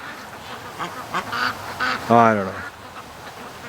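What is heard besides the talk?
ducks quacking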